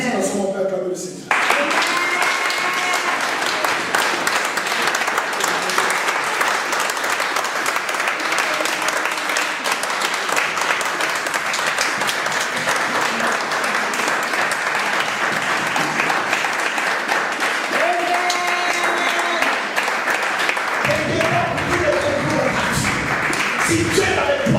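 Church congregation applauding and acclaiming the Lord, a loud, sustained roar of clapping lasting over twenty seconds, with voices mixed in and a sharp start at the beginning.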